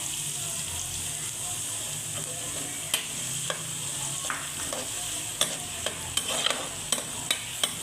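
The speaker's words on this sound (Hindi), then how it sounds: "मैंने तकरीबन 1 कप ऑयल का लिया है, इसको मैंने गरम कर लिया है। अब हम इसके अंदर प्याज ऐड करते हैं।" Onions frying in about a cup of hot oil for achar gosht, with a steady broadband sizzle throughout and sharp scraping clicks of a spoon stirring the pan, growing more frequent in the second half; no talking.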